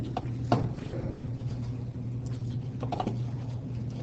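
Computer keyboard typing during a coding session, a loose patter of key taps over a steady low electrical hum, close and moderately loud.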